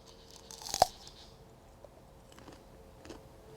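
A crisp fresh jujube is bitten with one sharp crunch, followed by faint, quiet chewing and small crunches in a calm outdoor orchard.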